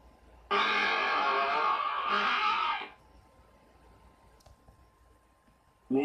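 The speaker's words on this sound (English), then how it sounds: "Oh, I flushed the toilet." A toilet flushes in the Minecraft video game: a loud, steady whooshing rush lasts about two and a half seconds, then cuts off to near silence.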